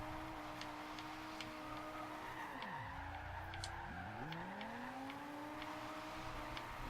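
A Donkervoort car drifting in Forza Horizon 2, its engine note dipping and surging through gear and throttle changes while tires squeal and skid, with faint ticking clicks over a constant game soundscape.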